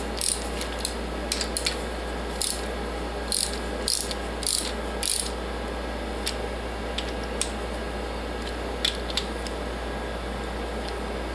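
A ratchet wrench snugs bolts on a 327 engine during piston installation, sounding as short bursts of crisp, close clicking separated by pauses over a steady background hum.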